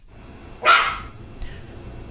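A single dog bark, loud and fairly close, rings out once over a quiet background, followed by a much fainter short sound.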